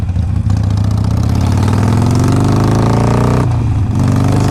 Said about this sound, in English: It's definitely it's still got that good Harley sound to it.